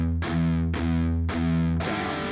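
Heavily distorted electric guitar chugs through a riff in four even, punchy strokes, close and loud, with no voices.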